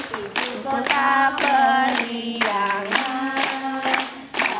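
A group singing the Indonesian song "Halo-Halo Bandung" while clapping along in a steady rhythmic beat, the claps close and punctuating the melody.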